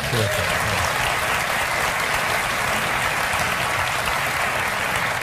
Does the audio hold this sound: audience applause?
yes